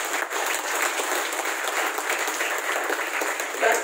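An audience at a university Foundation Day gathering claps loudly and steadily, a thick continuous roar of hands with scattered sharper claps throughout.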